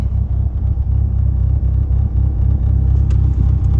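Old Acura 2G car with worn alignment and tires, heard from inside as it drives slowly: a steady low engine rumble and road drone, close and continuous, with no talking.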